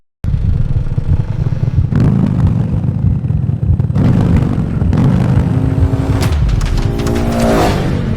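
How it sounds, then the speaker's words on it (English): A Harley-Davidson bagger with a Rev-Max engine revs in loud, close bursts that rise and fall in pitch. Higher revving sweeps toward the end sound almost like a race engine. "that engine tone to me sounds more high revving than what we're used to on an M8"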